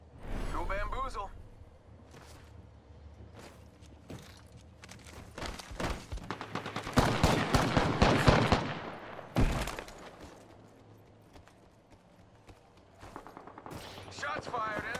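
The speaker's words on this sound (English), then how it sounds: "Shots fired." Apex Legends gunfire comes as scattered single shots and rapid bursts, louder in a dense middle stretch, mixed with footsteps, thuds and other in-game effects, with brief voice lines in places.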